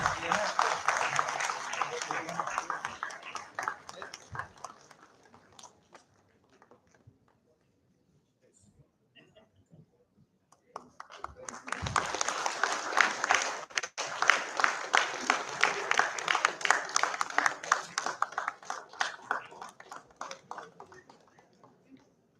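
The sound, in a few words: huge round of audience applause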